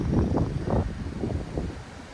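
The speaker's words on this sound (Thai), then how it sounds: "ลมก็ค่อนข้างแรงเลยนะครับ" Strong wind gusts buffet the microphone on a mountaintop at Doi Inthanon, with low rumbling whooshes that swell and fade in uneven pulses.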